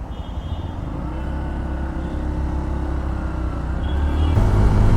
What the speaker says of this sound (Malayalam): ക്ലച്ച് പിടിച്ചേനാ വണ്ടി സ്റ്റാർട്ടായി